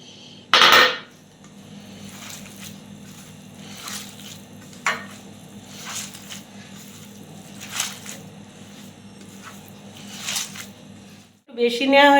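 Gram flour batter for cabbage pakoda, seasoned with turmeric, cumin, nigella and poppy seeds, is mixed in a bowl: soft, wet squishing and stirring with a sharp clatter near the start and a quieter knock at the end.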